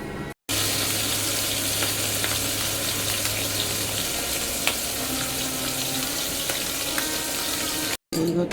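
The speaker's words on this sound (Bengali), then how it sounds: "এই যে এখানে এখন ইলিশ মাছ ভাজবো, 2টো ইলিশ মাছ ভাজবো" Two hilsa fish fry in hot oil, giving a steady, close, moderately quiet sizzle with light crackles throughout, with no talking.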